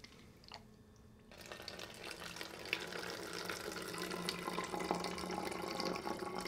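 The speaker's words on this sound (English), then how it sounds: "I'm gonna be filtering that into a smaller bottle I can keep on my shoulder strap with a flip top" Water runs in a steady, quiet trickle as it is filtered into a small flip-top bottle while backpacking, starting faintly and then settling into a continuous close stream.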